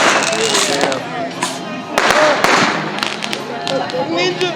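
Firecrackers and fireworks going off in a suburban neighborhood: loud sharp bangs and crackling bursts, several close pops in quick succession, with people talking and shouting throughout.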